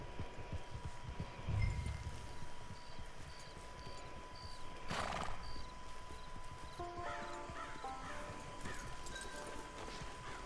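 Horse hooves clip-clopping and a whinny in the Red Dead Redemption 2 video game, moderate and fairly near, with game ambience and music tones layered over them.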